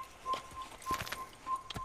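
A horse's hooves clip-clop over sandy ground in the Assassin's Creed video game, with a few soft, evenly spaced footfalls at low volume.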